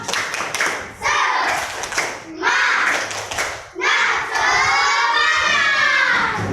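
A group of fourth-grade primary school children claps a quick rhythmic pattern and shouts a chanted cheer together, loud and close, in several bursts.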